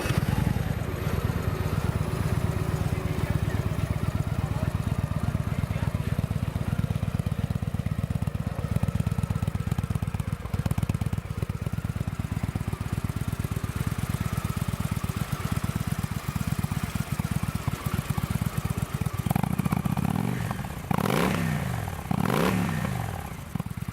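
A used Victory Vegas 8 Ball motorcycle engine runs steadily and loudly at idle with a low, even drone, then revs briefly near the end.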